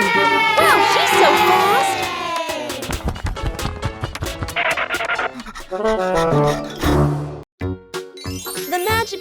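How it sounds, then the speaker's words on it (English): Cartoon crowd cheering at a race, excited shouts and children's yells rising over bright chiming jingles and musical stings, loud and busy with brief drops near the end. "The cheers from the crowd get louder, and the tension rises."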